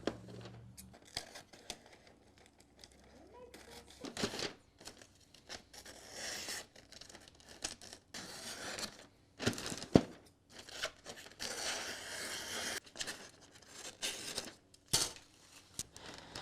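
Scissors trimming paper edges for a Cricut craft project: close, irregular snips and papery rustling, with steady cutting strokes and occasional sharper cuts, fairly quiet and with no talking.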